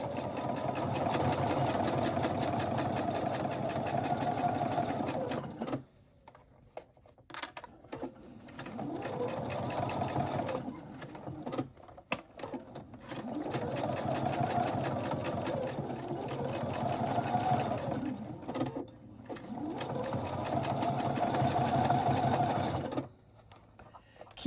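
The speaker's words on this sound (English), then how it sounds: "3/8 inch seam allowance to stitch all the way around my hat" A sewing machine stitches a 3/8 inch seam around a homemade billed cap and its stiff brim, running in steady whirring bursts of several seconds that are split by short pauses, close and loud, with no talking.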